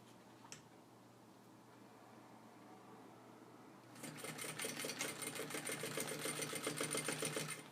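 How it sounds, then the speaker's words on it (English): Sewing machine stitching backpack straps starts after a quiet stretch, running in a fast steady mechanical chatter, close and clear, with no talk. "Alright, sewing."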